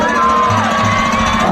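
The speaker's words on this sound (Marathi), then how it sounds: "जोरदार टाळ्या" A crowd cheers and shouts at an outdoor cricket league prize ceremony, a loud continuous roar of voices with whoops and no distinct claps.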